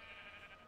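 A faint, brief sheep bleat from the video game Minecraft, low in level against steady background hiss, heard alone without talk.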